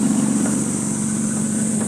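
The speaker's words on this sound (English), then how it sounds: "Engine running condition sounds good, but it might have a little bit of an exhaust leak." A 1996 Toyota Supra SZ-R with a swapped twin-turbo 2JZ engine and the catalytic converter removed idles steadily up close, a constant low hum with a faint hiss suggesting a slight exhaust leak.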